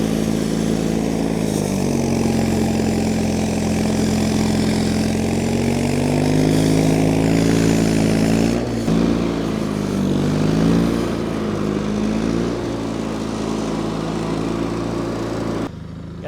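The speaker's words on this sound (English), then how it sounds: "that engine does purr like a kitten" A John Deere 316 garden tractor engine runs steadily and close by, a smooth continuous drone with slight rises and dips in pitch throughout, cutting off abruptly at the end.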